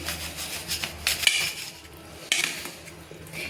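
A kitchen knife scraping and cutting away the dark parts of a katla fish, with quiet irregular scrapes and a few sharper metallic strokes close by, no voices.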